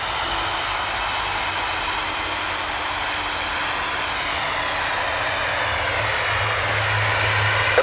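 A Boeing 757-200 jet takes off from Innsbruck with a loud, sustained engine roar and a rising whine that builds steadily, heard close and alone.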